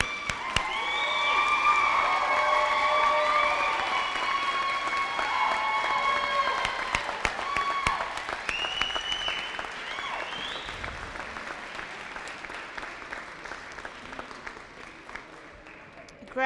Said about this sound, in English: Stand, give these guys a big round of applause and your cheers.